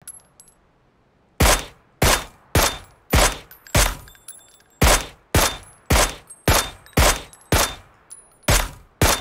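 Rapid repeated gunfire in a first-person shooter video game, a dozen or more sharp loud shots at a steady, slightly uneven pace after a quiet start, with no talk.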